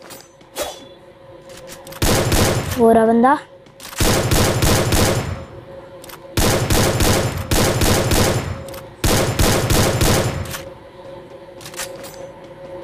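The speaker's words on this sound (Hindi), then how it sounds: "गोली चलने की आवाज़ आई है" Bursts of rapid gunfire in Free Fire Max come in several loud volleys separated by short pauses, with a brief spoken phrase.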